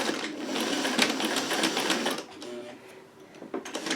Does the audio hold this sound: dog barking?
no